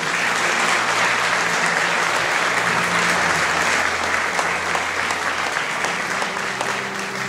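A church congregation at an Assembly of God service applauds the Lord, loud sustained clapping filling the room continuously for over seven seconds, with a faint low tonal hum beneath it.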